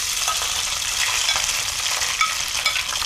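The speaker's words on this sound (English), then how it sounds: "I just love the sound of sizzling when it's cooking." Vegan kalua cabbage hits hot oil in a pan over medium heat and sizzles in a steady, bright crackling hiss, with small pops scattered through it.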